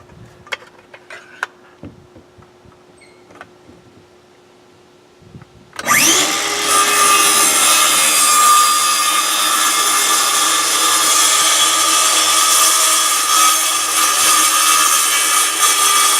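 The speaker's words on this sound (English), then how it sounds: "be very careful doing a plunge cut" Power saw making a plunge cut into wood for a shed gable vent: after a few light taps and clicks, the saw bursts in loudly and whines steadily and close for about ten seconds.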